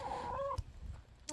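A backyard chicken gives a short, close, rising cluck, followed by a couple of soft low clucks and faint outdoor noise.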